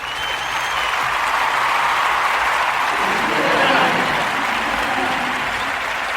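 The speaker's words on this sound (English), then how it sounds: "let's give them a round of applause" Podcast audience breaks into a round of applause, a broad steady roar of clapping that swells slightly in the middle and holds loud throughout.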